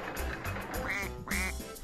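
Several ducks quack in a busy, overlapping series of loud, nasal calls, with a couple of longer drawn-out quacks standing out near the end.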